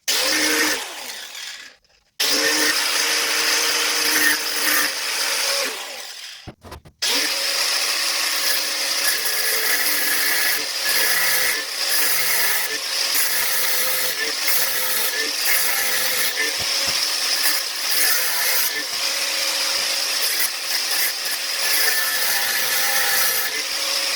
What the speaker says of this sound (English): So let me saw it, and hopefully it pops off.